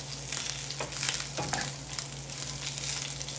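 Sausage sizzles and spits in a cast iron pan, a steady close crackle with a few louder pops and scrapes, no voices.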